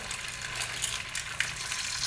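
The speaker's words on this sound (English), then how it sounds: "Let's hear the sizzle." Food sizzles and crackles steadily in a hot pan, a close, continuous frying hiss over a short stretch with no talking.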